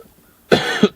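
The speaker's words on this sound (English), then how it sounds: "They did not like me coughing." A single close, loud human cough, a short burst standing alone after a moment of near silence, heard outdoors near a flock of wild turkeys and chickens.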